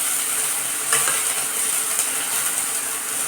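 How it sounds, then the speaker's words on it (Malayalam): Onion, green chili and curry leaves saute in a pan for a green tomato thoran, a steady close sizzle broken by scraping stirs of a spoon against the pan. "ഇതിലേക്ക് കുറച്ച് വേപ്പിലിട്ട് കൊടുത്തിട്ട് നന്നായി ഒന്ന് വഴറ്റണം കേട്ടോ"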